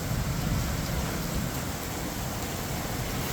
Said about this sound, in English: Holy smokes, it's a bloody rainstorm.